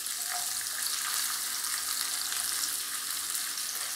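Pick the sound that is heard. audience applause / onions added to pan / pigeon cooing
onions added to pan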